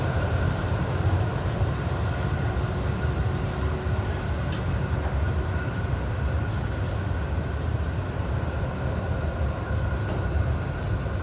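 Alsthom locomotive 4154 hauling freight train 725 from Hua Takhe into track 2 at Nong Pladuk Junction, a steady heavy rumble with rolling wagon noise that holds at an even level throughout, with no voices.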